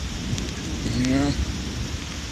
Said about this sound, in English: I know, it's raining out.